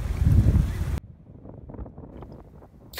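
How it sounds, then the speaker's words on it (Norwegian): A strong wind at a beach by a campsite roars against the microphone in a loud, blustery rush for the first second, then drops to a lower, uneven rumble of gusts. "Her er det tydeligvis vant til mye vind"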